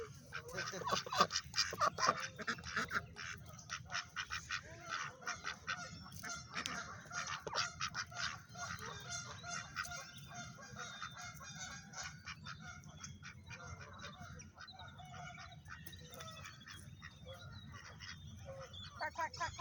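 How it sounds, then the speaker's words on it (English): Several park ducks quack and honk up close among other birds, the calls irregular and overlapping in a lively cluster, with a person talking softly now and then. "Quack, quack, quack, quack."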